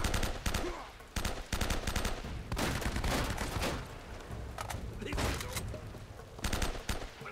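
Bursts of rapid gunfire from an enemy during a firefight in the finale of Uncharted: Drake's Fortune on PS3, several loud volleys separated by brief gaps.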